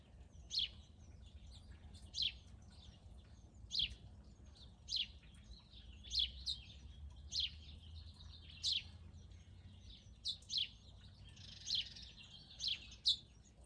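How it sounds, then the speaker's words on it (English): Small birds chirping, a run of about a dozen short, bright tweets spaced evenly over a quiet low background hum, with no speech. "these are different kind of birds than we had in the she shed"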